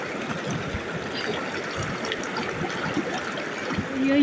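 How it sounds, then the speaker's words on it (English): Cold water of the Lachung River in North Sikkim gurgles and trickles nearby in a steady, busy flow, swelling slightly louder toward the end, with no talk over it. "This is the Lachung River."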